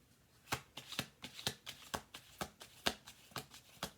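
A deck of playing cards being shuffled, with a steady run of crisp riffle snaps about every half second, close and fairly quiet with no voices.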